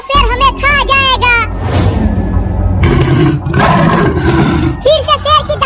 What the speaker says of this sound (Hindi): ये तो शेर की दहाड़ने की आवाज है।